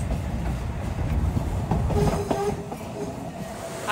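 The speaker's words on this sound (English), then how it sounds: "Backing up, they're turning the train around." A narrow gauge train rumbles slowly as it backs up, with low mechanical noise, a few metallic clanks and a faint squeal of wheels on rails.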